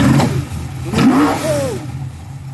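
A TVR Griffith race car engine gives a short, loud rev as the throttle pedal is pressed, rising and then falling away within a couple of seconds, close up.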